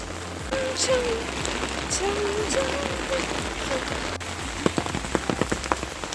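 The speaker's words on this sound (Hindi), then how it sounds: "बहुत तेज़ बारिश हो रही है यहाँ पे।" Heavy rain pours down steadily, pattering hard on surfaces, with a few louder drips and taps standing out near the end.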